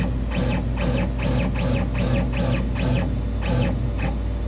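Stepper motors on a Prusa i3 3D printer drive the print head in a series of short moves, each a rising and falling whine, about eight in a row, close and clear over a steady low electrical hum.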